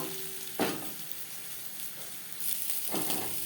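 Pointed gourd (kakrol) pieces seasoned with turmeric and salt frying lightly in a pan, a steady soft sizzle with a couple of brief stirring scrapes, close and moderately quiet, no voices.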